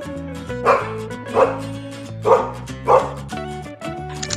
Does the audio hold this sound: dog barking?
yes